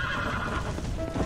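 A horse neighs in Red Dead Redemption: Undead Nightmare, a loud whinny with hoof clip-clops throughout, close and alone without talk.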